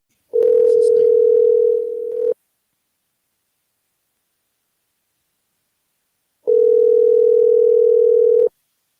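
The ringback tone of an outgoing telephone call sounds twice, each a loud steady two-second tone separated by about four seconds of silence.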